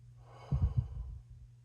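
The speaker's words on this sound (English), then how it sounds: "if you just do like 3 deep breaths like that, you should be fine" A single deep breath, drawn in and let out as a soft sigh, close and quiet over a low steady hum, lasting about a second.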